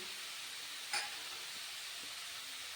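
Fried prawns tipped into bottle gourd cooking in a pan, with a steady quiet frying hiss throughout and one brief louder splash of sizzle as they land, and no talking.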